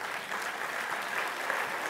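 Applause rises from a conference audience welcoming two doctors onto the stage at a health talk on sleep, a steady dense wash of clapping heard alone at moderate level throughout.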